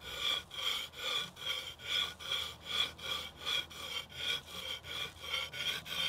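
Sharpening the bevel of a vintage, roughly 100-year-old billhook outdoors at a winter camp, a close, steady rhythmic rasping of strokes repeating about twice per second, with no speech.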